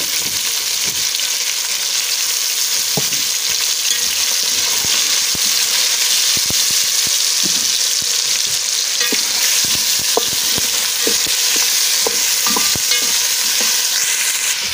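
Steady, loud sizzling and crackling of beef frying with garlic ginger paste in a hot pan, with occasional soft clinks of a utensil stirring, and no voices.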